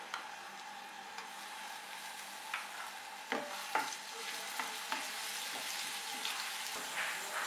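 Ginger garlic paste frying in 3 to 4 spoons of oil in a pan, a steady soft sizzle with occasional scraping stirs of a spoon, close and fairly quiet, with no talking.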